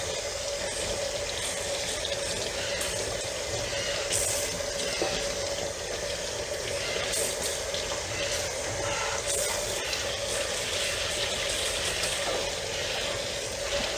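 Tap water runs continuously over PS2 Slim console parts being rinsed in a sink, making a steady splashing hiss with small bumps and clatters at moderate distance, with no talking.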